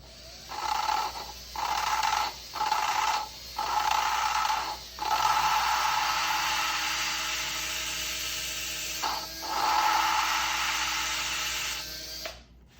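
A handheld drill lapping an engine valve whirs in a series of short bursts, then runs steadily for several seconds with a grinding, scraping tone before stopping.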